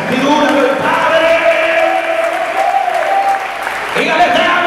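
Church congregation applauding during a Sunday sermon, a sustained wash of clapping with cheering voices mixed in and a loud crowd noise throughout, dipping briefly before swelling again.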